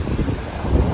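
Cold, gusty wind blowing across the microphone outdoors beside a rabbit and chicken hutch, a brief dense rumbling rush with no talking.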